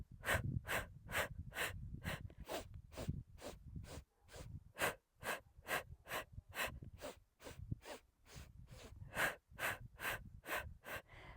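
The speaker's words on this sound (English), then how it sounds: "We can either use a sniffing breath where we breathe in little" A Pilates mat session with a steady run of short, sharp sniffing breaths drawn through the nose in quick regular pulses, close and fairly faint, continuing for the whole stretch without talk.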